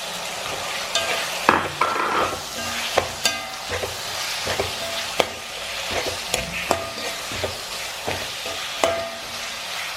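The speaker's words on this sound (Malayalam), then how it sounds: "കശുവണ്ടി പരിപ്പ് എണ്ണയ്ക്കകത്ത് നന്നായിട്ട് വറന്നിട്ടുണ്ട്" Cashew nuts and coconut pieces frying in hot oil in a pan, a steady close sizzle broken by frequent scraping clicks of a spoon stirring, with no talk.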